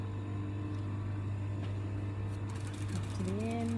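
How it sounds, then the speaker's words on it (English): A sewing machine runs along a seam with a low, steady hum throughout, fairly faint, with a few brief clicks and tonal squeaks near the end. "Keep stitching along."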